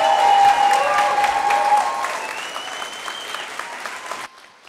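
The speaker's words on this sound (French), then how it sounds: "vous pouvez vraiment les applaudir encore une fois." A theatre audience applauds actors on stage, a loud, dense, sustained round of clapping with whistled or cheering tones that gradually thins and cuts off abruptly near the end.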